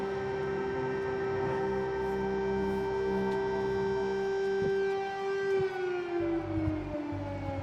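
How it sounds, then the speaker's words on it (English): A loud, sustained air raid siren wails steadily in central Kyiv, holding one droning pitch before slowly sliding lower near the end, with faint background noise. "there are air raid sirens going off right now here in the heart of Kiev"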